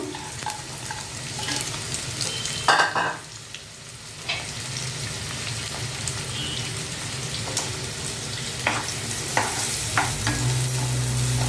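Broad beans, onion and green chilies frying in a pan, a steady close sizzle with a broad crackling hiss throughout, a brief louder stir burst near the start, no talking.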